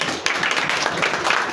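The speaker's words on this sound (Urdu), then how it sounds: "تالیاں ان کے لیے" Church congregation applauding during a Palm Sunday sermon in Rawalpindi, a short burst of dense close clapping.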